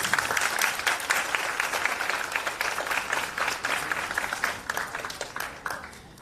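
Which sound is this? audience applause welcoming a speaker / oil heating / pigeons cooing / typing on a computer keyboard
audience applause welcoming a speaker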